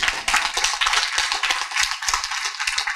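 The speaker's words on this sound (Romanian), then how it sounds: "Aplauze!" At a folk music show, a crowd claps along in a quick, steady rhythm of sharp, close hand claps.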